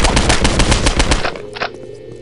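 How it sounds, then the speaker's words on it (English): Rapid automatic gunfire in the video game Postal 2, a loud dense burst of shots aimed at the player that stops abruptly, leaving a few scattered fainter shots and low background game noise. "Why are you shooting me?"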